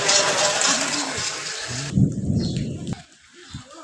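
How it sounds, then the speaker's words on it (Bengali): Rain pours in a dense steady hiss while low thunder rumbles underneath, then the downpour cuts off sharply, leaving only a faint rumble and scattered drops. "এখনও গুড়ি গুড়ি বৃষ্টি আছে"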